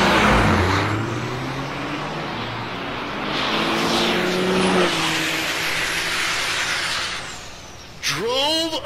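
A single-stack diesel truck launches down an eighth-mile drag strip at the Wild Horse Pass NHRDA event, a loud engine roar that rises in pitch, with an announcer talking over it and a fresh revving burst near the end.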